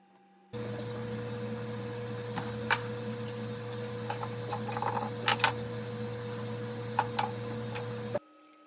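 A strap clamp with corner blocks being tightened around a glued-up coffee table: light clicks and small ratcheting ticks sound scattered over a constant low mechanical hum, close by, with no talk.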